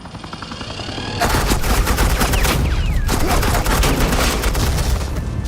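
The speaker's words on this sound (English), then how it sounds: "Suppressing fire." Sustained suppressing gunfire from Agent Quinn's side in the video game Batman: The Enemy Within, a loud, dense rattle of rapid shots that starts abruptly after a quieter opening and keeps going without pause to the end.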